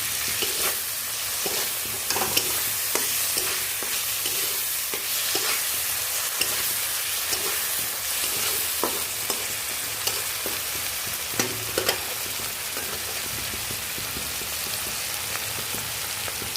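Chopped tomatoes fry in a hot pan, a dense, even sizzle that runs throughout, close by, dotted with small taps and stirring knocks.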